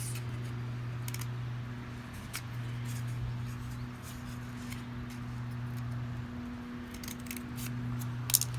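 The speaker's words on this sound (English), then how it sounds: "And then you're going to cut 4 slits in it" Scissors snip repeatedly through a cardboard toilet paper tube, cutting short slits for a junior gardening craft; crisp close clicks and cuts scattered across the span over a steady low hum, with no talking.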